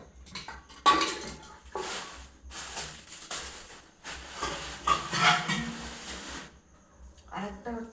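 A steel cooking pot being handled, giving irregular metallic clanks and scrapes at close range, mixed with people talking.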